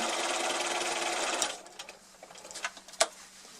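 A sewing machine stitching fabric for a quilted rose runs in a fast, steady whirr for about a second and a half, then stops, followed by faint clicks and handling sounds.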